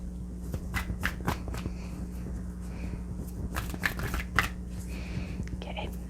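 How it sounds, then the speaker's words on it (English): Oracle card decks being shuffled by hand, a run of crisp riffling and papery slaps in quick bursts, close and fairly quiet, with no speech. "I did shuffle all these decks very, very well."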